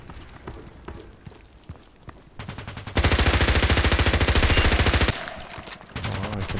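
Kriss Vector SMG gunfire in the shooter game Contract Wars, a loud rapid burst of automatic fire lasting about two seconds, preceded and followed by quieter gameplay noise.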